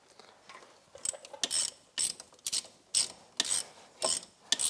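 Ratchet wrench cranking lug bolts tight on a Ford F350 front wheel hub, a series of loud, close, rapid clicking bursts with short pauses between strokes, no talking.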